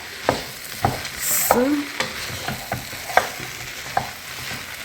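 Fried potatoes, cabbage and carrots sizzle steadily in a pan while a spatula scrapes and taps at a regular rhythm. A brief spoken word is heard at one point.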